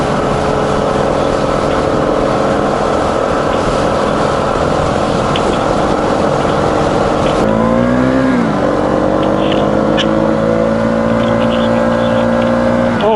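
Motorcycle engines on a group ride along a highway, a steady loud drone with wind rush, then a rising rev and shift pattern midway as the bikes accelerate.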